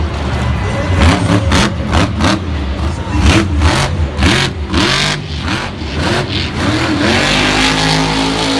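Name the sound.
Grave Digger monster truck engine revving, spinning donut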